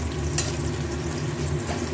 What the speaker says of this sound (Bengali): পেঁয়াজটা একটু ভাজা ভাজা হতে হবে